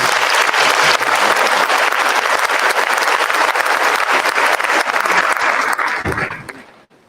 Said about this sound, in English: give them a resounding round of applause in appreciation